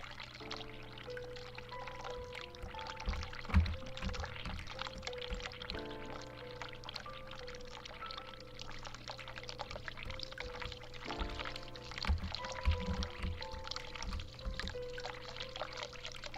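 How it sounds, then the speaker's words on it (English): Hot water runs from a tap in the video game The Cat Lady, a steady pouring stream that lasts throughout. It plays under layered music with sustained tones and no speech. "So, we need to run some hot water."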